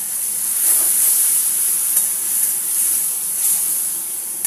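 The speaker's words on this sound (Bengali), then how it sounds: "এখানে মশলা কষাতে দিয়ে দিয়েছি আমি" Spice paste fries with onions, nigella seeds and dried chillies in a pan, giving a loud continuous sizzling hiss with occasional soft stirring scrapes.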